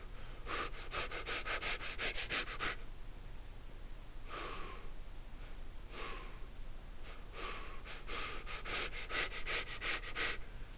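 A person vocally imitates Cheyne-Stokes breathing with rapid sniffing breaths that build in fast bursts, pause briefly, then return in clusters, close and fairly loud with no speech.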